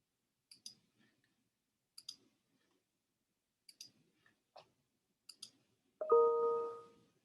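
Computer mouse clicks in a quiet room: a handful of crisp, close, isolated clicks spread a second or so apart, followed by a brief tonal electronic chime at the end.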